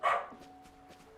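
A pet dog named Leto gives a single sharp bark close by, followed by quieter yelping and whining sounds with a faint steady tone underneath.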